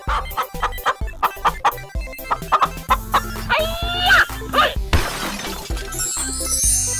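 Cartoon chicken clucks and squawks in an animal slide video game, a rapid series of short bright calls over a bouncy, rhythmic game tune with percussive hits, fairly loud and close.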